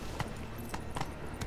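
Hooves of a horse clip-clopping in The Witcher 3: Wild Hunt, a few light, evenly spaced thuds over a constant noisy game ambience, moderately close and fairly soft.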